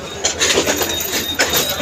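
Steady rumble and rattle of a moving Bangladeshi passenger train on an Eid holiday journey, with wheels clattering on the rails and metallic squeals rising over the noise, close and continuous.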